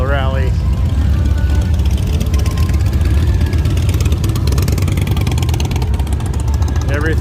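Motorcycles at the 2022 Sturgis motorcycle rally: a steady, loud low engine rumble with idling and revving throughout, crowd chatter and voices mixed in.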